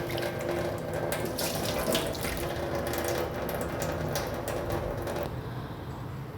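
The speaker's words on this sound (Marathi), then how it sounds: "बटाटे चांगले धुवून घ्यायचे आहे दोन पाण्याने" Potatoes being washed in a sink: close running tap water with splashing and sloshing, plus light clatter as the potatoes are handled, easing slightly at the end.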